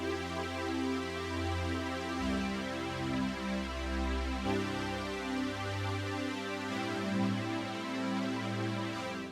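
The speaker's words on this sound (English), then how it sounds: "We have this synth strings kind of part, which is filling in the chords for me." Sustained synth strings play slow, smooth chords that change every few seconds, soft and warm with no voices.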